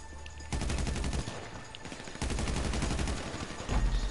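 Rapid bursts of automatic gunfire crackle in GTA Online, several volleys of repeated shots with short pauses between, loud and close with no talk.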